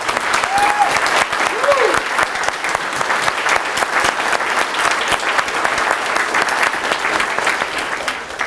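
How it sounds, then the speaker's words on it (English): An audience at a ribbon-cutting ceremony for an aquatic conservation center gives the students a long, loud, steady round of applause, with a few brief whoops rising over the clapping. "let's give them a great big round of applause"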